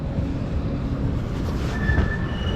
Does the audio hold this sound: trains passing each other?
yes